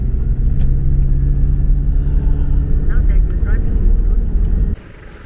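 Car cruising on a long highway road trip, a loud steady low engine and road rumble heard from inside the cabin that drops away abruptly near the end.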